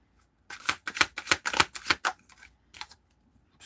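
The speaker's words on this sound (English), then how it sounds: "Shuffle." Tarot cards are shuffled in a rapid series of crisp, close riffling snaps, about a dozen sharp bursts clustered together, then a brief pause and a couple more.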